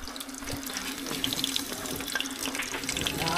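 Cold water runs steadily from a tap in a kitchen while crispy pata is being prepared, a constant close splashing stream filling the whole stretch.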